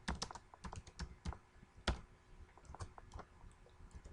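Typing C code on a computer keyboard: a steady run of quick, light key clicks in irregular rhythm, close and fairly quiet, with no voices.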